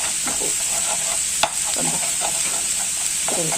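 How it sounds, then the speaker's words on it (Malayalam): Mixed vegetable thoran is stirred in a hot pan, a steady close sizzle with repeated scraping stir strokes and one sharp clack partway through, no voices. "പിന്നെ ചെറുതായിട്ടൊന്ന് ഇളക്കി കൊടുക്കുകയാണെങ്കിൽ ഇതൊന്നും പിടിക്കാതെ"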